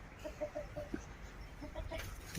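Chickens cluck softly in a steady, scattered series of short calls, somewhat distant, over a low outdoor background with no talking.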